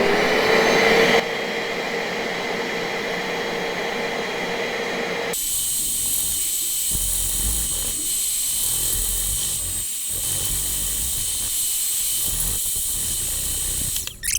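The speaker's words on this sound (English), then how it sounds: "That is how the little green machine did on these stains." A Bissell Little Green Machine portable carpet cleaner works on a mustard stain, its motor whining steadily, then switching to a harsher suction sound with rhythmic dips as it passes over the carpet, up close.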